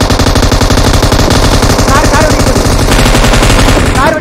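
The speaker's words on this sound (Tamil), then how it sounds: "அடிக்கிறான், நம்ம கார் வெடிக்க போதியா?" Loud, rapid automatic gunfire in a fast-paced online shooter video game, with dense bursts rattling almost continuously for several seconds up close.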